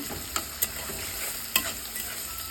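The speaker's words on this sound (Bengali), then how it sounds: "আর ইলিশ মাছ ভাজি করছি" Hilsa fish frying in oil, a close continuous sizzle and hiss punctuated by a few sharp clinks and scrapes of a utensil against the pan, with no talking.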